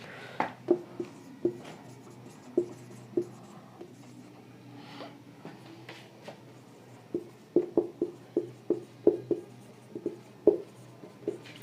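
Chalk or marker strokes tap and scrape across a board during a lesson, a series of sharp close ticks in uneven clusters, with a pause in the middle and a busier run of quick strokes near the end.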